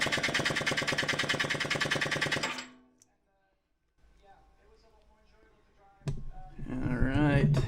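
An IAME KA100 kart engine, freshly rebuilt and cold, cranked over for a compression test, a loud fast rhythmic chugging for a few seconds that stops abruptly, followed by quiet shuffling and then a voice speaking.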